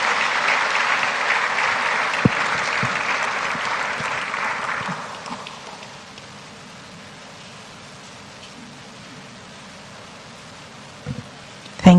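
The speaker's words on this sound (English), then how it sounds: "Please give him another round of applause." Audience applause at the official launch of a justice initiative, loud continuous clapping for several seconds that dies away to quiet room tone, with a few faint knocks and rustles near the end.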